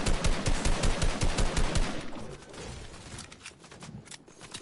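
Video game gunfire, a loud rapid automatic burst of evenly spaced shots for about two seconds, then fading into quieter distant firing and background game noise.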